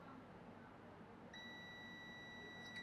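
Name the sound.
multimeter continuity beep testing TVS diode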